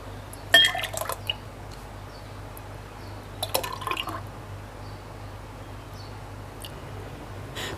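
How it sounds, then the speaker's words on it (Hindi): Custard almond sharbat drink poured into glasses, heard as soft liquid trickles, drips and a few light glassy clinks in two short bursts, quiet and close against a faint steady hum. "अब मैं इसे गिलासों में डालती हूँ।"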